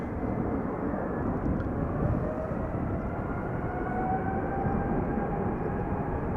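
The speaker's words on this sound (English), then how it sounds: "Coming this way is Delta Airlines, flight 47. Airbus A330neo outbound to New York JFK." A Delta Airlines Airbus A330neo jet airliner departing Schiphol Airport gives off a steady, broad roar at moderate distance, with a faint rising whine running through the rumble in a chilly wind and no talk.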